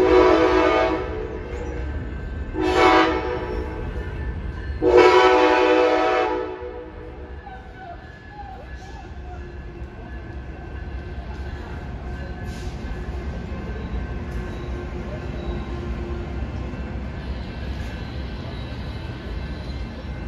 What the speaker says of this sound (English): Here's a different Amtrak train, the Blue Water to Port Huron,